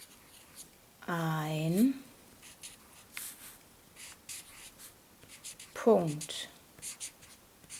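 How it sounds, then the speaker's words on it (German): A coloured pencil scratches across paper in a few short, distinct strokes amid quiet room tone, with a voice speaking briefly between them. "Und jetzt nehme ich diesen einen Buntstift und schreibe hier hin"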